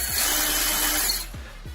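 An AEG BSB 18SBL subcompact brushless 18V cordless impact drill whirs loudly at high speed for just over a second, then cuts off and spins down, leaving a couple of faint clicks.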